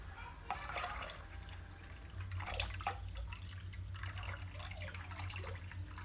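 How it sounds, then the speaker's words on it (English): Liquid lye being poured while making homemade artisanal soap, a thin trickling, dripping stream of liquid with splashes, heard close and fairly quiet. "So now we're going to pour the lye."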